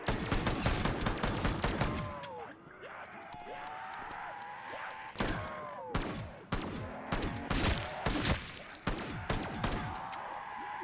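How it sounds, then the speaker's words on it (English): Gunfire in a VRChat zombies shooter comes as rapid, loud, sharp blasts in quick bursts with short gaps, mixed with game effects and a voice talking over the shots. "Shotgun time."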